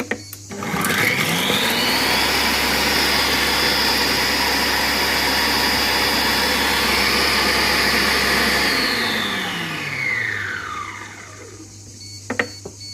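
A Compact Cook Pro food processor runs at speed 10, a loud steady motor whine that ramps up within the first second, holds for about eight seconds, then winds down and stops.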